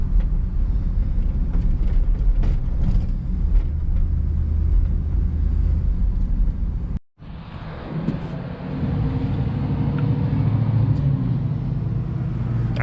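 A 1973 Chevrolet Monte Carlo on the road, a steady loud engine rumble and road roar heard from inside the cabin, briefly cutting out before the drone continues.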